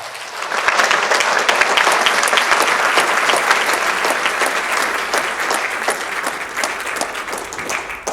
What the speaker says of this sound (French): Je vous demande de l'accueillir avec un tonnerre d'applaudissements,